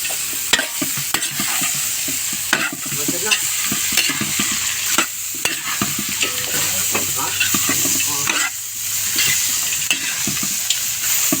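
Pork for menudo fries in its own rendered fat in a pan, a loud continuous sizzle broken by frequent sharp clacks and scrapes of a spoon stirring, close up and busy throughout with no talking.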